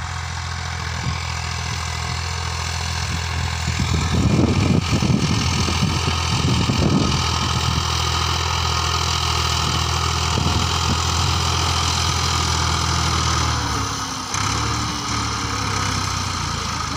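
A Massey Ferguson tractor engine runs a potato planter, a loud, steady diesel drone close by with a rougher, fluctuating stretch in the middle and a brief dip near the end.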